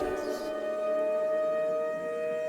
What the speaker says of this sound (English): This siren is really spooky too.